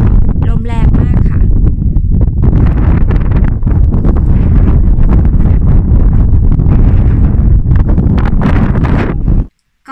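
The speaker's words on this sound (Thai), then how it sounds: "ลมแรงมากค่ะ" Strong wind blasts the microphone at a hilltop in rural Innlandet, Norway, a loud constant rumbling roar that cuts off abruptly at the end, with someone speaking under it.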